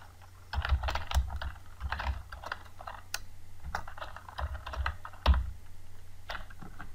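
Rapid, uneven keystrokes on a computer keyboard while text is entered in Notepad++, close and clear with short pauses between bursts and no voices.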